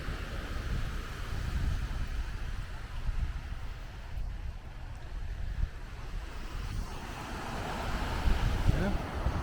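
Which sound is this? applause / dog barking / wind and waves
wind and waves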